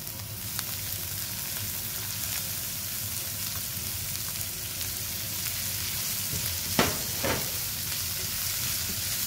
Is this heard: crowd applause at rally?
no